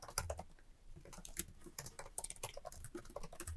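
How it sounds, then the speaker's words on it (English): Close, steady typing on a computer keyboard while entering text into a form, a continuous patter of key clicks with no talking. "So let me just type something in."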